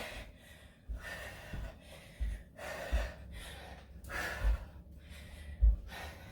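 Heavy, rhythmic breathing during a workout, repeated loud gasping inhales and exhales at close range, roughly one every second, with no speech.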